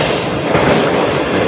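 A passenger train runs between Wazirabad and Gujranwala, Pakistan, heard from on board as a loud, steady rumbling roar with faint rhythmic thumps and no talk.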